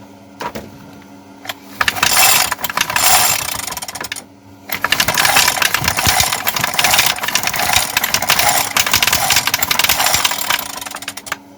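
A petrol brush cutter (ELTOS) with a compression fault runs loud and close, rattling in a rough burst that stops briefly, then restarts and keeps running unevenly with no talk.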